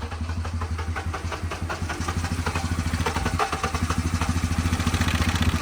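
A Honda engine running on chocolate milk, chugging roughly at idle with a fast, uneven throb and loud mechanical clatter, close by and steady throughout.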